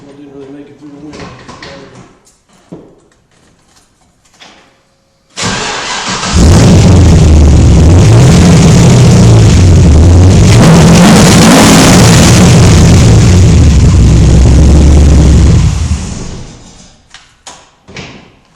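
An LS3-swapped Datsun 240Z turns over after winter storage and catches, then a deep loud idle and revving roar fills about ten seconds before cutting off. Scattered talk and thumps come before and after the engine runs.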